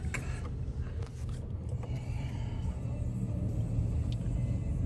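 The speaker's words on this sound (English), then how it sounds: "Traffic to Vegas is ridiculous right now. It's like bumper to bumper." Heavy bumper-to-bumper traffic on the road from Los Angeles to Las Vegas gives a steady low rumble of car engines and tires, heard from inside a vehicle with faint passing whooshes.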